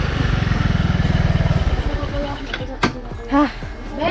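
A motorcycle rumbles close by as it works along a rough, narrow path, its steady engine pulse strong at first and then fading under nearby talk and shouts.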